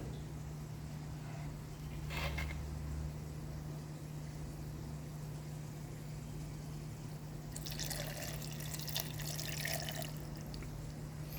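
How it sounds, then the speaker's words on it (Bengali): Water left from rinsing a plate is poured into a mixer jar holding onion-tomato masala for a soybean kosha recipe, giving faint, brief splashing and trickling over a steady background hum. "এর মধ্যে প্লেট ধোয়া জলটা দিয়ে দেবো যাতে পেস্টটা ভালো হয়ে যায়"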